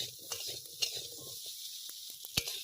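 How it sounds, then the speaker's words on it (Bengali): Steady frying sizzle of potatoes in hot oil, seasoned with salt and turmeric, with a few light clinks and stirring scrapes scattered through. "একটু ভালো করে ভেজে নেব, লাল লাল করে।"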